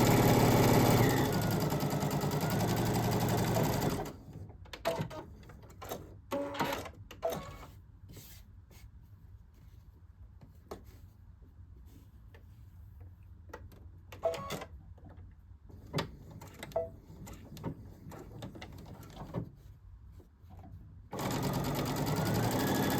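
A sewing machine stitches a jacket side panel to the back panel from armhole to hem, running in short and long bursts with pauses between, steady mechanical whirring close and loud, no talking.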